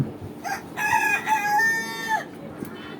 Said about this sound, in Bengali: মুরগিকে সকালবেলা নিম পাতা খেতে দিচ্ছি